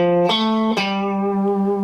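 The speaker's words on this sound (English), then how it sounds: "miming what the distortion guitar was doing in the earlier iterations" An electric guitar played through a distortion effect rings out sustained, harmonically rich notes, shifting pitch twice with sharp picked attacks, loud and close with no voice over it.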